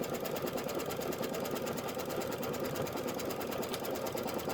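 A quilting machine stitches fabric while tacking down a grass strip for a quilt border, giving a fast, even, continuous mechanical stitching rattle throughout at close range.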